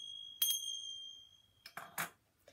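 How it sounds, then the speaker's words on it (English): Tingsha bells, small Tibetan cymbals used at a children's library rhyme session, strike once with a bright, sustained ring that slowly fades, followed by a few softer rattling taps in a quiet room. "these little fellas are tingsha bells"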